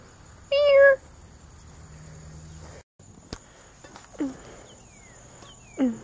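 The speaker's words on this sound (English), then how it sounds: "Kitty cat." A cat gives a short, clear meow at close range, followed by a few fainter, brief cries against a quiet background with a steady insect-like hum.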